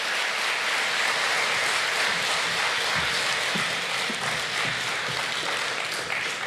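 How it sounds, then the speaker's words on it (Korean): Loud, dense applause from a church congregation at a prayer rally marking the Korean War's 70th anniversary, welcoming a pastor to the stage, sustained evenly throughout with no break. "나오실 때 여러분 힘찬 박수로 환영해 주시기 바랍니다."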